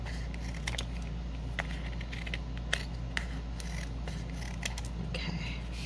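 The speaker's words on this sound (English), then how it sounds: "I am going to trim this so that this paper is a little more even." Scissors trimming the edge of paper for a collaged junk journal card, a series of crisp snipping and rustling cuts at close range over a low background hum, with no talking.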